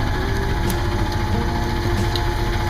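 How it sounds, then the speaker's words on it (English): Small inboard engine of a sailboat running under way on a lake passage. It gives a loud, steady, close mechanical drone with a fast regular pulse and no pauses. "We can cut the engine back off."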